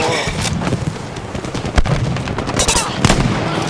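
Rapid bursts of gunfire and booming explosions from the video game Battlefield V, loud and chaotic, with sharp shots piling up over constant battle noise.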